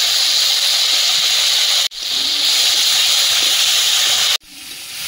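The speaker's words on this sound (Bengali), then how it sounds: "রসুনটা ভেজে নিয়েছি" Crushed garlic and whole cumin fry in hot oil, giving a loud, steady hiss. The hiss breaks off abruptly twice and then resumes.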